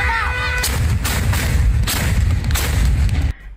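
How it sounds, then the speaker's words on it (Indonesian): Traditional carbide cannons fired along the Kapuas River in Pontianak for Ramadan and Eid celebrations, a series of loud, deep, echoing booms in quick succession that cut off abruptly at the end. "Meriam ini menghasilkan suara dentuman keras yang menggema, menciptakan suasana meriah dan penuh semarak."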